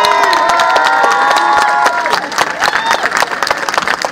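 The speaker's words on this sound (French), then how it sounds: "Et on vous applaudit personnellement et tout le personnel de la ville de Liège." At the Viva for Life charity event in Liège, a lively crowd claps and cheers, with children shouting among them. The applause is loud and continuous, then turns more scattered and uneven in the second half.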